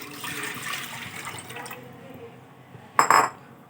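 Thin coconut milk poured into a cooking pot for Konkani sandan, a liquid wash through the first half, then a sharp close splash and clatter of the vessel near the end.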